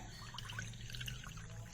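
Water poured from a cup into a vessel of sugar for syrup, a quiet continuous trickling pour with light splashy detail, faint and steady throughout.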